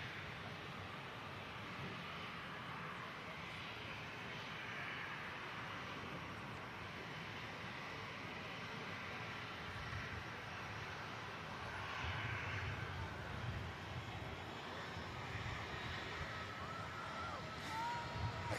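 A TAP Air Portugal Embraer E190 arriving from Lisbon at Manchester Airport, its engines a steady distant roar that swells slightly toward the end, with faint background voices.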